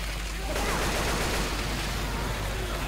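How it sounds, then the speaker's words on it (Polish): Fireworks go off in the zombie shooter Left 4 Dead 2: a continuous crackling barrage of rapid bangs and pops at moderate volume, dense and unbroken for a few seconds. "A, niebezpieczne fajerwerki."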